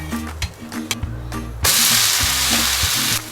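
An onion dosa fries on a hot pan after being flipped: quiet scraping and tapping, then a loud, close, steady hiss of sizzling oil that continues to the end.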